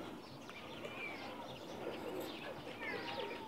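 Pakistani pigeons coo softly in the background of a loft, low murmuring calls with occasional chirps over a steady ambient hum.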